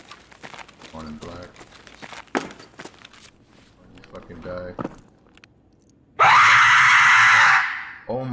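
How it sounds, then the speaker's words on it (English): A loud, harsh scream blasts out for about two seconds during an Escape From Tarkov match, breaking in suddenly after scattered footsteps and quiet talk, then cutting off. "someone just played a screaming noise and it scared the shit out of me"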